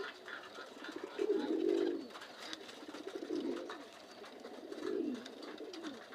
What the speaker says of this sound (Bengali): চলেন নতুন কবুতরগুলো দেখে আসি